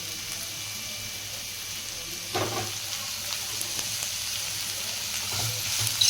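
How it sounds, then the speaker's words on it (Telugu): Sliced onions, carrot and cabbage fry in hot oil with a steady, even sizzle, broken around the middle by one short clatter of stirring. "ఆయిల్ హీట్ ఎక్కిన తర్వాత కట్ చేసుకున్న ఆనియన్స్, అలాగే కట్ చేసుకున్న క్యారెట్, కట్ చేసుకున్న క్యాబేజ్ ముక్కలు అయితే వేసేసుకోవాలి"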